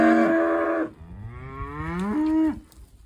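Cows on a farm moo loudly and close by, a long harmonic low, one call that trails into a rising, wavering moo, with no one talking.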